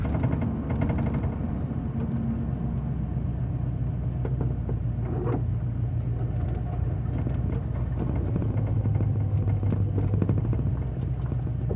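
A Chevrolet Camaro driving, heard as a steady low engine rumble and road drone from inside the car, with occasional faint knocks and rattles; nobody speaks.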